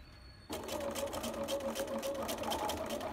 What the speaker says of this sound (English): And then carry on sewing. Straight down.